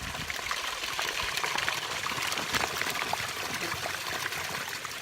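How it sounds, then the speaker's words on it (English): Mountain spring water trickles and splashes in a continuous, fairly loud stream, close by, with no voices. "That's the spring water that's coming up from the top of the mountain"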